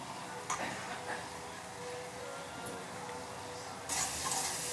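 Prawns fry in oil in a wok with a quiet, continuous sizzle, broken by a few light stirring scrapes and a brief louder hiss near the end.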